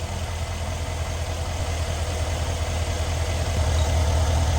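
A Mercedes GLS (X166) idles at close range with a steady, low, even rumble that holds constant throughout and runs with no voices.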